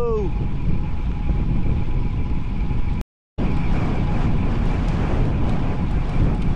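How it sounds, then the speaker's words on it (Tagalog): Steady wind buffeting the microphone during a long, windy road ride, a broadband roar that runs almost throughout with one brief cutout midway, and faint voices underneath. "Ang hangin"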